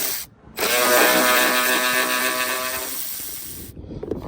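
A ratchet spinning out a headlight bolt on a 2003–2006 Ford Expedition, heard as one continuous, loud, close whirring buzz lasting about three seconds, with a brief click before it and faint handling noise after.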